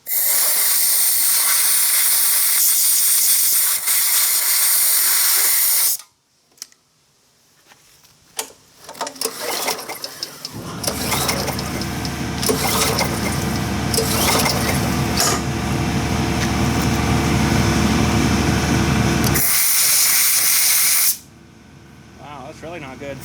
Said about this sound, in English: get my air here, just give that a little clean blow